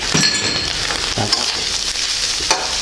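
Preserved radish and egg stir-fried in a hot pan, with a steady close sizzle broken by spatula scrapes and clinks against the metal.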